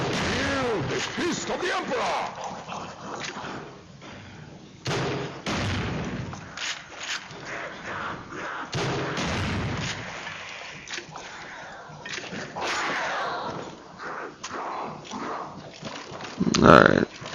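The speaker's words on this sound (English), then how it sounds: "If you're gonna have a grenade launcher, you might as well use it." Repeated explosive blasts and gunfire from a grenade launcher fired at zombies in Call of Duty Black Ops Zombies, Kino der Toten map, with a steady stream of game noise and a player talking over the action.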